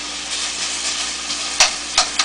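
Potatoes sauteing in a non-stick pan give a steady, even sizzle that runs throughout, with a few brief louder clatters near the end as they are stirred.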